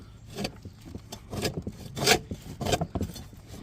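Scraping buildup off an old, nicked mower blade: repeated rough rasping strokes in an uneven rhythm, close and fairly quiet, with no talking.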